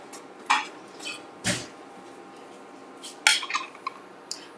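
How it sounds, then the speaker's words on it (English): A metal spoon stirs simmering beans in a pot for a home-cooked burrito dinner, giving scattered scrapes and clinks against the pot sides: a few sharp knocks and a cluster of rattling taps, close and alone. "beans are starting to percolate, so let's give those a little stir"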